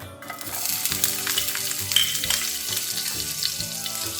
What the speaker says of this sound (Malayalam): പച്ചമുളക് വറുത്തെടുക്കുമ്പോൾ നല്ല മണമാണ്.